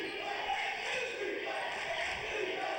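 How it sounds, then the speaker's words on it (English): Crowd in a high school gym at a boys basketball game, East Brunswick versus Edison, sending up a steady rhythmic defense cheer, a dense wash of voices sustained throughout without a single voice standing out. "we've actually hear a defense cheer coming from the crowd"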